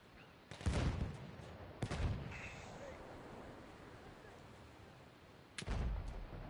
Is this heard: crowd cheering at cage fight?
no